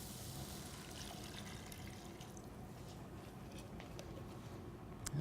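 Water being poured into a pot of chilled zucchini soup, a steady continuous splashing pour at close range, alone without talk.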